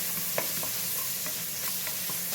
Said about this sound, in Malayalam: ഇതെല്ലാം കൂട്ടിയിട്ട് ഒരുമിച്ച് തന്നെ ഇട്ട് ഒന്ന് ഇളക്കി കൊടുക്കും